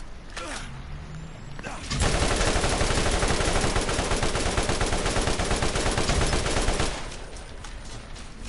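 Gunfire in Borderlands, a continuous rapid burst emptying a full magazine for about five seconds, loud and close, framed by quieter game ambience before and after.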